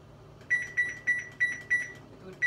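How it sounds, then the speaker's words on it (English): A kitchen timer goes off while matzo ball soup cooks, giving a steady series of short, bright beeps, about three per second, fairly faint and alone. "There's our timer."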